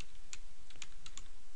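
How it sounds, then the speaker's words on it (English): Typing on a computer keyboard, a scatter of crisp key clicks at an uneven rhythm over a steady background hiss, close and fairly quiet, with no voices. "I'm just typing the first thing comes to my head."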